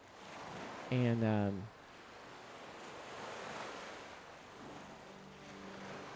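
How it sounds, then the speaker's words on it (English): Ocean waves wash and crash against a ship in a steady windy roar. A brief spoken word briefly rises above the surf near the start. "Hear the crashing of the waves against the ship."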